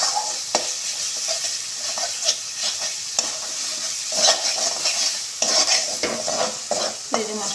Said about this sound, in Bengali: এই যে মশলাটা ভালো করে কষাচ্ছি।